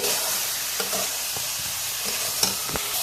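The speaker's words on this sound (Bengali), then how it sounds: "দুটো তেজপাতা দিয়ে দিচ্ছি পেঁয়াজ রসুন আদার সঙ্গে মাংসটা ভালোভাবে ভেজে নিয়েছি" Beef sizzles steadily in a pan with bay leaves, onion, garlic and ginger for a chui jhal beef curry, a continuous close frying hiss broken by a few light stirring scrapes, no talking.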